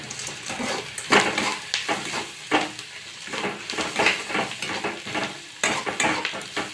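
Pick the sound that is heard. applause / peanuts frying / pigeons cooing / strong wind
peanuts frying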